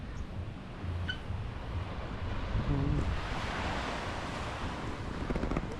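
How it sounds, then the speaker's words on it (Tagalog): Strong ocean surf roars steadily on a beach in Bauang, La Union, with wind buffeting the microphone, waves rushing and breaking in a continuous wash. "lakas ng alon"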